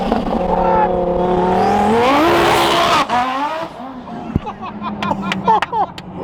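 Modified Lamborghini V3 Unicorn accelerating hard on a road leaving Beverly Hills, its engine note climbing loud and steady for a few seconds before easing off, with excited voices shouting over it.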